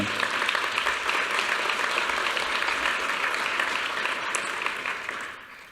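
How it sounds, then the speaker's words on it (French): Sustained, even applause from an audience after an art performance at an art-prize ceremony, filling the whole stretch before tapering slightly at the end. "je pense qu'on peut l'applaudir pour cette magnifique performance"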